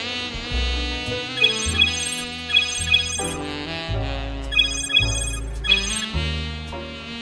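A telephone rings with a repeating melodic ringtone as a call is placed, loud and close, in regular bursts with no talking.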